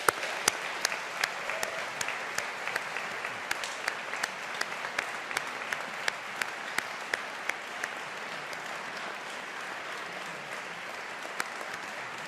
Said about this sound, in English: let us take the opportunity to show our appreciation and gratitude with a round of applause for your family, friends and supporters